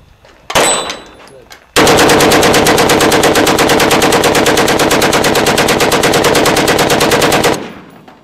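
A Browning machine gun fired outdoors toward a hillside: a single loud shot, then one long unbroken burst of rapid fire lasting about six seconds, very close and dominating the scene before it cuts off.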